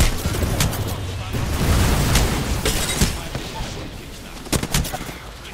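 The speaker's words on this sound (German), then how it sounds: "Diese Clowns schießen auf mich." Enemy gunfire in a shooter video game: scattered single shots and short bursts crack loudly and close, spaced irregularly against a noisy game background.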